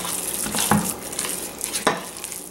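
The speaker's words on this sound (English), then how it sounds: "I'm just gonna stir all that in." A spoon stirring a raw meatloaf mixture with coconut aminos in a bowl, a continuous wet mushy churning with two sharper scraping knocks, close and clear, no talking.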